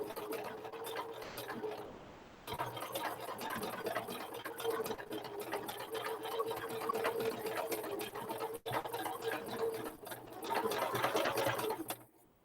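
Domestic sewing machine stitching free-motion embroidery on fabric, a steady close whir with rapid needle patter that pauses briefly near the start and runs on continuously.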